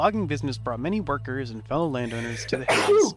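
A single loud sneeze bursts out right after a stretch of a person talking.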